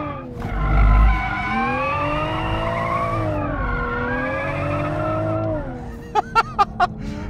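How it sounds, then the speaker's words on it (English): A Toyota Supra GTS on a race track, its engine note rising and falling as the tyres squeal through a skid, ending in a few sharp chirps as it recovers, close and loud. "stop for a skid."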